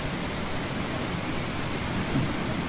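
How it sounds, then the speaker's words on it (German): A thunderstorm in the game Eastshade, heavy steady rain hissing evenly throughout with a low rumbling undertone, no distinct thunder crack. "Ist hier ein Unwetter"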